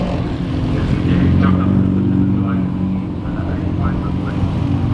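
Honda race cars idle and rumble near the pits as they roll back in from qualifying at a Honda Cup round, a steady low engine drone with light revving throughout.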